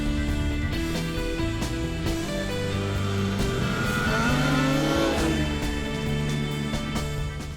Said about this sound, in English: Riding the Polaris ProX today, the 800.